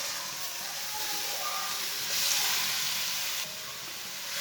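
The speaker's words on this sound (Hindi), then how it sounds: "ऑयल हमारा गर्म हो चुका है। कद्दूकस की हुई गाजरें डाल लेंगे।" Grated carrots hiss and sizzle in half a cup of hot oil for a gajar halwa, a steady bright frying crackle that swells briefly midway before settling, close and alone with no talk.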